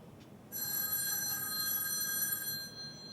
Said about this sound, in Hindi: अरे दीनू का फोन है।